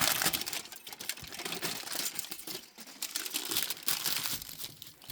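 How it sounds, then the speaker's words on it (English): Crinkly paper or foil being folded in half, a steady close-up rustle and crunch of sheet material running continuously throughout while a bottle vase is upcycled. "So I'm just going to fold this in half."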